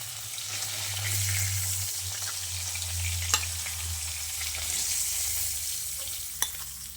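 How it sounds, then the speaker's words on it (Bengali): Pieces of hilsa fish fry in hot oil with a steady, close sizzle and crackle, broken by a couple of sharp pops. "এবার আমি বাকি দু পিস মাছও ভেজে নিচ্ছি"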